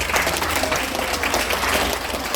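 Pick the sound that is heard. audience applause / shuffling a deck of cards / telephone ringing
audience applause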